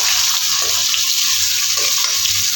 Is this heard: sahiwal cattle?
no